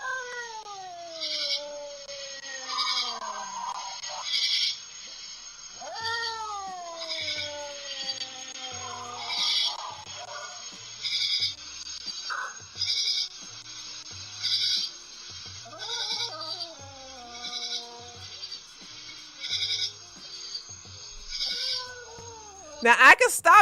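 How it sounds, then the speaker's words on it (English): A cat meows and yowls repeatedly in long, wavering drawn-out cries, with short pauses between calls and a steady high tone in the background. "That's not a dog, that's the cat."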